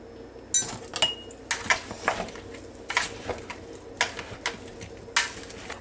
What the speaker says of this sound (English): now I'm going to stir this up a little bit